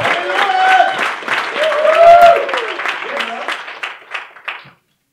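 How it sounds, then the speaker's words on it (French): A seated audience at a personal-development talk claps and cheers. Voices and whoops rise over the applause, which swells and then tapers off into silence. "Applaudissez-lui encore une fois."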